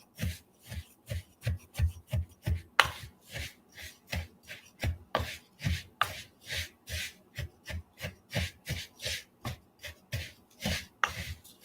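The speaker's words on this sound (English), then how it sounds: "we have all of our dry ingredients mixed now, and I'm going to give that a quick stir" Mixed dry oatmeal ingredients, seasoned with cinnamon, being stirred quickly in a bowl, giving a steady rhythmic run of soft scraping, rubbing strokes, close and fairly quiet, with no talk.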